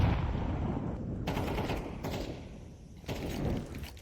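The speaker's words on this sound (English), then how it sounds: "Fear with the Deagle just spams him down" Desert Eagle pistol fire from a Counter-Strike 2 esports match, heard as a few sharp, loud shots in rapid succession over dense game noise, with no talk.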